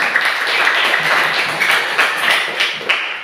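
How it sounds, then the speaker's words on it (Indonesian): A classroom full of pupils clapping for a classmate, a dense, steady burst of hand claps from many children close by, lasting a few seconds with some uneven louder claps. "Oke, tepuk tangan untuk si Ognes."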